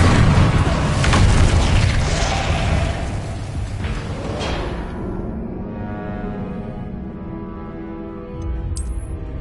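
An Incendio fire spell erupts in Hogwarts Legacy with a loud, broad booming whoosh that roars for several seconds, then thins into a lingering burning rumble and crackle before ending in a brief sharp flicker.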